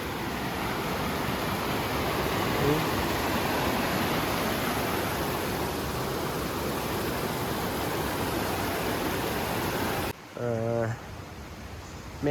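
The Belihul Oya stream rushes steadily beside a forest path near Kolapathana falls, a dense, continuous broadband wash of flowing water, close and loud, ending with a brief voice after it cuts away.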